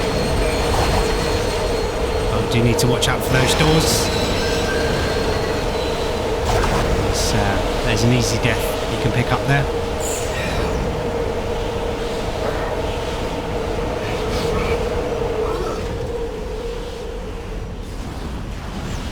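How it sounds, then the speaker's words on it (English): A train in Dead Space 2 rumbles and rattles loudly and continuously, with squealing wheels and metallic clanks, while someone comments over it before the noise eases near the end. "Nice little memorable sequence here of catching another train."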